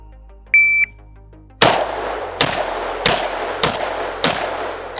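Four loud rifle shots from a PSA GF-3 AK-47 at a shooting range, spaced about half a second to a second apart, each with a sharp crack and quick decay, preceded by a short electronic beep.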